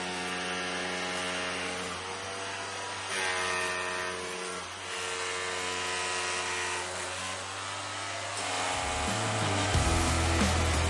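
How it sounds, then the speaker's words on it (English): A heavy excavator engine drones loudly and steadily, its deep mechanical hum shifting pitch and revving slightly near the end. "Okay, well, Joel, you can start that digger."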